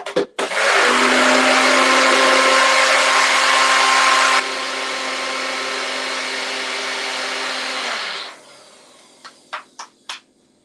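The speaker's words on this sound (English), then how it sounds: "I'm just using my little NutriBullet, and you can see got this kind of green crumble going on" A small NutriBullet blender whizzes a green crumble mixture, a loud steady motor whine that drops slightly in pitch partway through, then stops, followed by a few light knocks.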